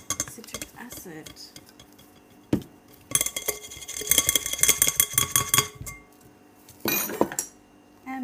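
A utensil stirs citric acid into a mixture in a bowl, with scraping, clinking strokes arriving in short bursts and pauses, fairly close and loud.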